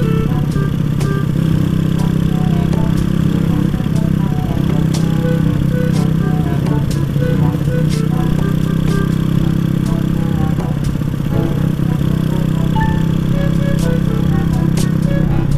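Honda Astrea Grand motorcycle engine running while riding, a steady close mid-pitched drone with light clatter and occasional scraping ticks, continuous for the whole stretch with no talking.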